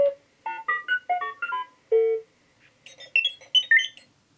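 A quick string of warbling electronic beeps and chirps from a Star Wars Galaxy's Edge R-unit toy droid, rising and falling in pitch, close and clear with short pauses between bursts.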